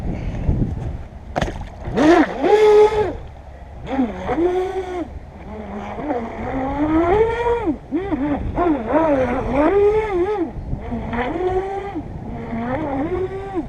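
A modified RC boat running with one propeller missing gives a buzzing motor whine that rises and falls in pitch in repeated bursts, close and fairly loud, with water splashing beneath.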